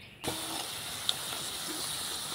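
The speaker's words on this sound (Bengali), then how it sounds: "আলুর চিপগুলোকে আমি ধীরে আঁচে সময় করে মুচমুচে করে ভেজে নেব" Potato chips frying slowly in oil over low heat give a steady, even hiss of bubbling oil that starts suddenly and holds at a moderate level, with one small pop partway through and no voices.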